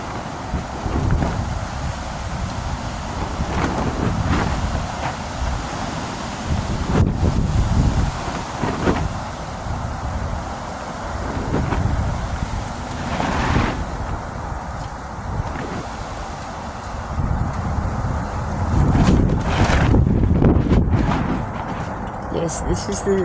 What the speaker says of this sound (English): this is the wind that I have to put up with here. It's quite intense.